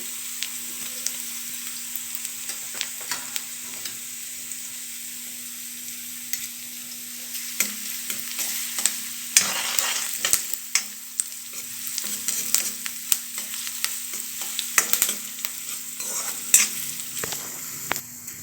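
Ten or twelve curry leaves and ginger garlic paste fry in a pan for a home-cooked peanut bhaji, a soft steady sizzle with frequent clicks and scrapes of stirring that grow busier midway, no voices.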